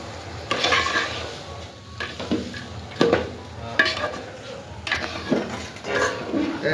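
Rice, cauliflower and potato being stirred together in a pot for picnic khichuri, with repeated scraping and clinking of a spoon against the pot and a soft sizzle underneath, close and moderately loud.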